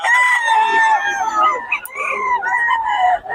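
A young rooster, a stag, crows once up close, loud and clear: a long, wavering, rising-and-falling call that lasts about three seconds.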